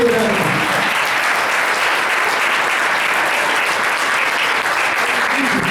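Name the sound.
congregation applauding loudly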